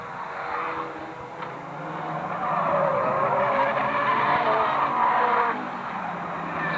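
Old racing cars lapping a circuit at a non-contact club meeting: engine noise swells and passes at a distance, with a broad roar rising in the middle and then easing, heard alone without commentary.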